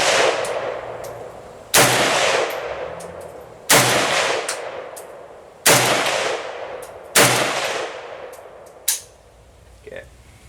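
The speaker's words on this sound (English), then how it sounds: "So I got 5 rounds loaded up. Gonna shoot offhand." Rifle shots fired offhand at an outdoor range boom out one at a time at slow, even intervals, each loud crack followed by a long fading echo, with a few faint metallic clinks afterward.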